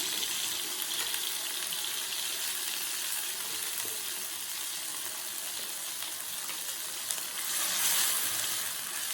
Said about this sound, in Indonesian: Setelah minyaknya panas, masukkan tadi bumbu yang sudah kita